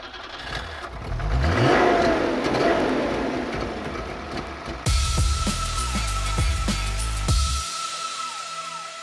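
A Saab car engine cranks, catches and revs loudly up close, then settles into a rough idle before cutting off, with birds chirping faintly behind.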